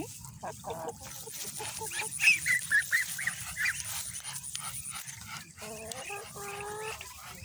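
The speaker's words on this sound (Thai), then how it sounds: "ไก่ไข่นะคะ ไม่ใช่ไก่เนื้อ" Laying hens, kept for eggs rather than meat, share a waterside smallholding with ducks and fish. Several short clucks and calls sound close by over a low, steady background rumble.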